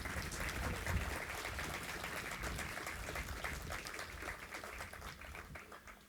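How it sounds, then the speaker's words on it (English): Sustained applause from an audience at a university Veterans Day celebration fills the hall, steady dense clapping at moderate distance that slowly tapers off over several seconds. "A round of applause, please"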